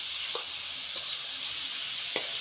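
Potato pieces fry in a pan with a steady, close sizzling hiss and a couple of faint clinks, no talking.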